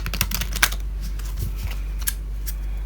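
Small new tarot cards are shuffled by hand, giving a run of quick papery clicks and flicks in uneven bursts, close to the microphone over a low steady hum, with no talking.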